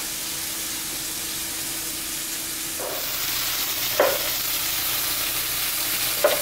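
Bison slider patties fry in a pan with a steady, even sizzle throughout, joined near the end by a few sharp clinks of a utensil against the pan.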